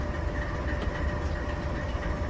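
A locomotive in a train simulator game rumbles steadily, a moderately loud, continuous low engine drone with faint rolling clatter and no talk over it.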